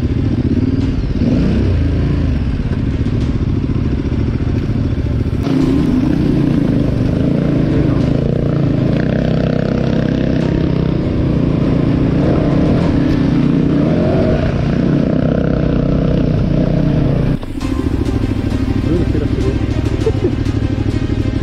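A dirt bike rolls along a rough dirt track with a steady low engine drone and clattering over bumps, loud and close throughout, with a brief break near the end.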